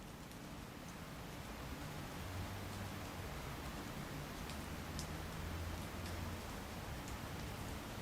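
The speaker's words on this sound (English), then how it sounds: "I know there's a lot of noise from the raindrops" Steady rain patters continuously on foliage, a dense even hiss with scattered louder drops, no voices.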